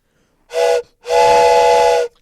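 A steam train whistle sounds twice, a short blast then a longer sustained one, loud, shrill and close, with nothing else heard.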